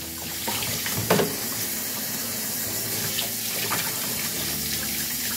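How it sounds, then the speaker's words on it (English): Tap water runs steadily over raw quail meat in a sink, a continuous close splashing hiss with a brief louder clunk of handling near the start and no talking. "And give it another little rinse"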